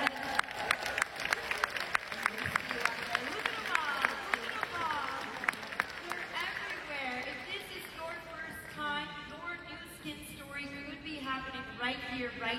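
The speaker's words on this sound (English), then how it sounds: "let's give them a round of applause" Audience at a Nu Skin event applauding first-time attendees, a lively burst of clapping with cheers and whoops, voices calling out over it before the clapping thins.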